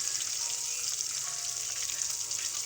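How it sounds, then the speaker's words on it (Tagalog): Chicken frying in a pan over a low flame gives a steady, dense sizzle with fine crackling that holds even and close throughout, with no voices. "Ganyan po ako magluto ng fry. Tapos mahina lang yung apoy para luto hanggang ilalim."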